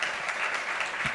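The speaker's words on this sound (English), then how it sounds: "applause." An audience applauds at an event honouring cricketer Mithali Raj around the ICC Women's World Cup 2025, a dense, steady clapping that runs loud and unbroken through the whole moment.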